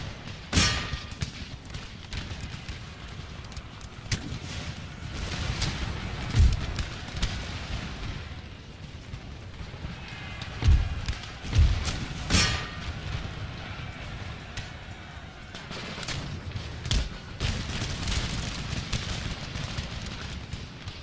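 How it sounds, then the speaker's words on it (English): Cannon fire in the game Empire Total War, Ottoman Empire forces firing: several heavy booms and thuds with clanging impacts, scattered irregularly over a continuous battle din, loud and close. "Give them a blast with the cannons"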